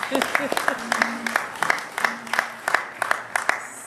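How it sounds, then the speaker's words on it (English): Sparse applause from a small audience at a celebration-of-life gathering, individual claps spaced in an uneven rhythm with a few voices audible between them. "Let's give a clap for Sister Rose."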